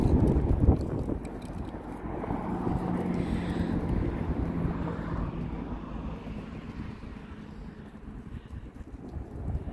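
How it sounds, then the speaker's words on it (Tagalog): Steady wind gusting outdoors in front of apartments, heard as a continuous broadband rush with microphone buffeting, loudest in the opening second and holding fairly even throughout, with no speech. "Mahangin din"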